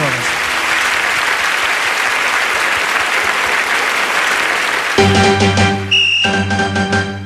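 A crowd applauds a group at a stage show, with dense, loud clapping for about five seconds before it gives way to bright, sustained musical tones.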